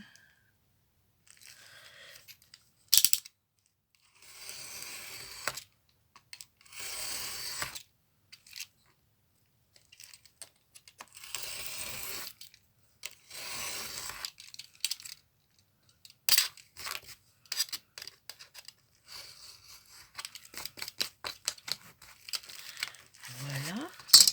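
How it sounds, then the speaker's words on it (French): A craft knife trims excess paper from a junk journal page in short, irregular bursts of scraping and crinkling, close and fairly quiet, separated by pauses, with a few sharper clicks and rustles of handled paper. "on va couper tout ce qui dépasse au cutter"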